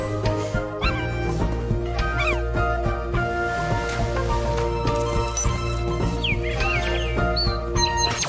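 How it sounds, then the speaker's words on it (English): Birds chirp in the Tamarin video game trailer, several short, high tweets scattered over a loud, steady musical bed with no speech. "Look at the bird!"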